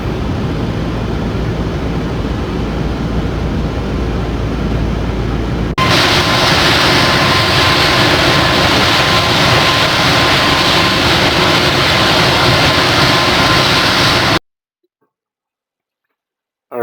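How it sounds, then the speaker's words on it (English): A small aircraft's engine runs in icy conditions, a loud continuous droning roar that shifts to a brighter, fuller tone partway through, then cuts off abruptly into silence. "I love the engine sounds, but it is kind of overwhelming"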